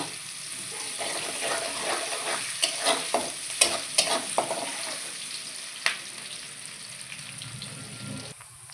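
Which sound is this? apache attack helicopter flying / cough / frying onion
frying onion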